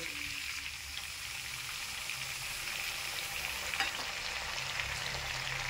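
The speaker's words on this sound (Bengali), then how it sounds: "আমি ওই একই তেলের মধ্যে অল্প টক দই দিয়ে দেব" Yogurt spooned into hot mustard-style oil left from frying prawns sizzles and crackles steadily, a dense close hiss with faint stirring, no voices.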